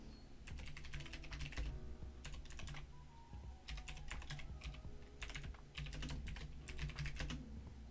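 Computer keyboard typing in quick bursts of clicky keystrokes, close and clear, with short pauses between flurries and a faint background hum.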